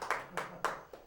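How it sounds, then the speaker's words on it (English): Clapping from a small audience at a live show by Ms Marci & The Lovesick Hounds: a few sparse, soft claps spaced about a quarter second apart, faint and somewhat distant. "Hey, thanks for the clap."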